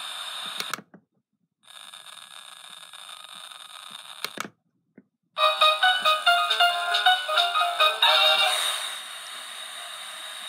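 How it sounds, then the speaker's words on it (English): A mini retro radio from Dashing Fine Gifts, with its antenna up, gives steady static hiss that cuts out twice, then warbling, pulsing tones sweep through as it tunes up from the bottom of the dial. "turn on the radio. Press reset in order to start from the bottom of the dial"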